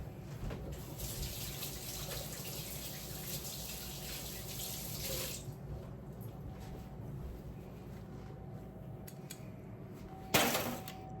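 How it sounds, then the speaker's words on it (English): A kitchen tap runs steadily as hands are rinsed under it. The water flows continuously for about five seconds, then softer trickles and faint clinks follow, ending with a brief splashy burst near the end. "I'm gonna rinse my hands really quick"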